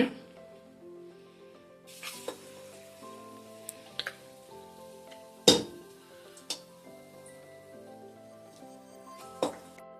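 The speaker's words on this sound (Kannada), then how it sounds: "ಒಂದೊಂದಾಗಿ ಮೊಟ್ಟೆನ ಎಣ್ಣೆ ಬಿಡ್ತೀನಿ." Egg bondas, dipped in batter, are dropped one at a time into hot oil and sizzle steadily, with a few sharp clinks of a utensil against the pan and a faint tonal hum in the background.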